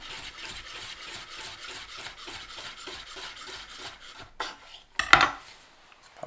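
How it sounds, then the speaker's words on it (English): A knife slicing vegetables very thin on a board for a salad, steady rhythmic chopping taps repeated quickly, then a few louder clatters of utensils near the end, close and fairly quiet. "we'll just cut them really thin"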